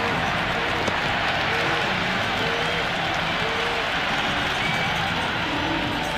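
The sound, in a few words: cheering stadium crowd in the video game Cricket 26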